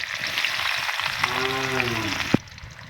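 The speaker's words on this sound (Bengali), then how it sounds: "তেলটা ভালোভাবে গরম হয়ে গেলে এতে দিয়ে দিব পেঁয়াজ কুচি" Chopped onion hits hot oil in a village home kitchen, giving a loud, steady crackling sizzle with a thin tonal whine midway, then a sharp knock just before the sizzle suddenly cuts out.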